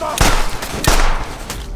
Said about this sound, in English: But after several gunshots, they were forced to retreat.